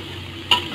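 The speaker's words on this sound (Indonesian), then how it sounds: "Kenapa udang harus digoreng? Ya biar matang lah. Goreng, goreng bukan dioseng." Shrimp frying in a pan for Indonesian fried rice, a steady close sizzle with a brief sharp clink of a utensil near the end.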